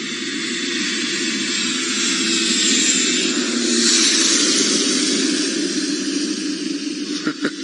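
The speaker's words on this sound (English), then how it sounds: "I'm just going to wait for this plane to land" An airplane roars steadily overhead at a safari game reserve, a loud, sustained engine drone that swells and then holds as it comes in to land.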